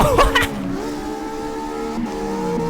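A car engine in an online drifting video game with a six-speed gearbox, revving and dropping pitch as gears shift, a steady loud drone after a brief burst at the start, no talk.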